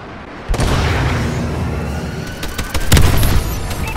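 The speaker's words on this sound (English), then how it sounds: "Friendly missile strikes incoming." Missile strikes explode in the Call of Duty: Advanced Warfare video game, a deep rumbling boom followed by a second, heavier blast and rolling crackle, loud and close with no talk.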